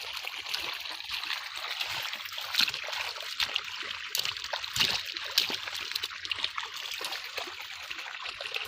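Beetroots being trodden in water to wash off the soil, with steady close splashing and sloshing, broad and continuous, plus occasional sharper splashes, no voices.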